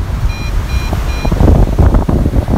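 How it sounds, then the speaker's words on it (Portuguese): Three short high-pitched electronic beeps in quick succession, a low battery alarm from an MJX Bugs 3 Pro drone in flight, over steady wind rumble, followed by louder gusting noise. "Já deu alarme de bateria fraca."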